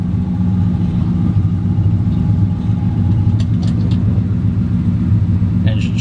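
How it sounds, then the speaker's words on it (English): An engine runs steadily nearby with a loud, even low rumble throughout and a few faint clicks near the end. "Engine shut down."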